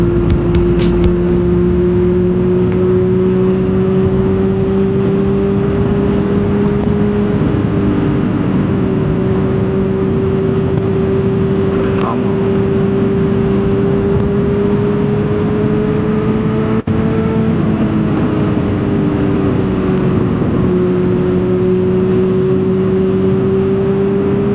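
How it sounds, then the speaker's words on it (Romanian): Motorcycle engines from a crowd of riders on the road, a loud steady drone that holds throughout with slight pitch shifts as throttles change. "și câte motoare sunt spate"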